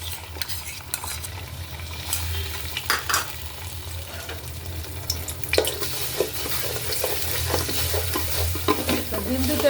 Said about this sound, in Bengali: ডিম 2টাকে একটু ভাজা নেই, হালকা ভাজা দিয়ে দেই